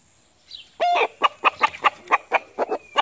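An Asil fighting rooster clucks in a quick series of short, sharp notes, close and fairly loud, with a faint steady hum behind.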